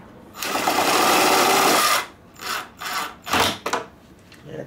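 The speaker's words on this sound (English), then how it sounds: "I'm going to use my impact with that little quarter inch screw" An impact driver runs a small quarter inch screw into a Ski-Doo seat panel: one long steady buzzing burst of about two seconds, then three short hammering bursts that follow close by.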